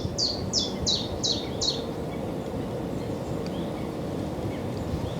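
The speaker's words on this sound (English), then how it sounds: "The bird life's definitely coming back now though" Birds chirp by the water at Fen Drayton, a quick run of five high calls up front and then fainter scattered notes, all over a steady low rumble of wind or distant traffic.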